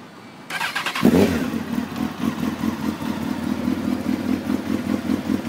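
A lowered, stretched Honda CBR 954 RR motorcycle with racing headers and racing exhaust cranks over and fires, then settles into a loud, close, throbbing idle with a rapid pulsing beat.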